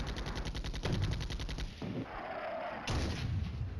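Artillery and gunfire crash through a battle in the wargame Flashpoint Campaigns Red Storm, loud and sustained with rapid repeated bursts, a brief lull near the middle, then another heavy salvo toward the end.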